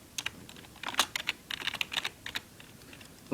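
Quick bursts of clicking keystrokes on a computer keyboard, irregular and close, pausing briefly between short runs of typing.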